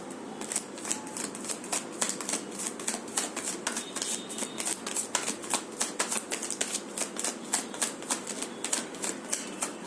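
A deck of tarot cards being shuffled, a steady run of crisp riffling flicks and slaps repeating close by for about ten seconds, with no voices.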